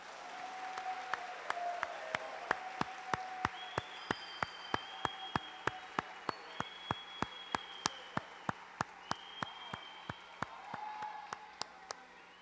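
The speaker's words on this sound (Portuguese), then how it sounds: "Vamos aplaudir essa criançada." An audience at a public debate applauds with steady, evenly spaced claps that sound like a few people clapping together, fairly faint and continuous for about twelve seconds.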